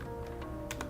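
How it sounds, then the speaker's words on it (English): Brief typing on a computer keyboard, a few quiet, rapid key taps under a steady low hum, the last two strokes slightly crisper. "I know you can't see me, I'm typing."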